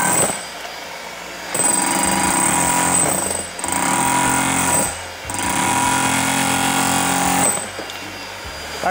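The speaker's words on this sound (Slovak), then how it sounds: "Takéto obrovské kladivo môže byť až takto jemné." A large Hilti Nuron cordless rotary hammer drills in three long, loud, steady bursts, each starting and stopping abruptly with short pauses between, its dust-extraction head humming along.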